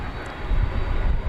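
An American Airlines jet takes off from runway 18 left at Dallas/Fort Worth airport, heard as a brief, loud, low roar of jet engines with some wind noise.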